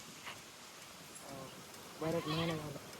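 A goat bleats once, fairly close, after a quieter stretch with a faint earlier call and a low voice in the background, from a small herd of four goats with kids.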